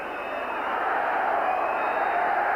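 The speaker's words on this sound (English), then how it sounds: "You can hear what the crowd think of it." A football crowd at Tynecastle during stoppage time of a European tie against Slavia Prague, a steady distant roar of massed voices filling the stadium without a break.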